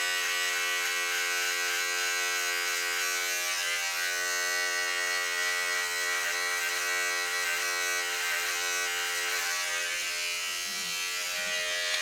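An electric hair clipper hums in one steady, loud, unbroken buzz for about twelve seconds as it cuts hair into a burst fade during a self-cut, running alone with no talking.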